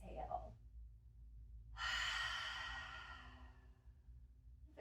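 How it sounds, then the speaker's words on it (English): An open-mouthed exhale during a yoga class, a long breathy whoosh that fades out gradually after a short intake, close and alone. "Inhale, belly, ribs and chest, and then open the mouth, exhale."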